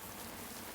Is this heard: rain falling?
yes